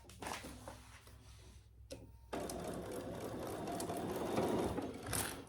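A home sewing machine stitches cotton thread alongside Peltex stabilizer on a clutch bag, starting with a short run, pausing briefly, then settling into a steady close whirring hum.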